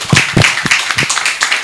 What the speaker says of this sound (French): Est-ce qu'on peut applaudir pour la dame,